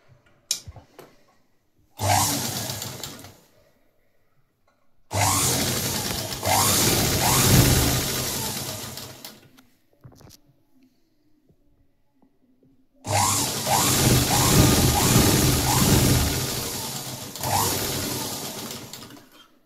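A sewing machine stitches blouse lining along a marked seam in three separate runs: a short burst, then two longer steady whirring passes with a rhythmic mechanical chatter, separated by near-silent pauses.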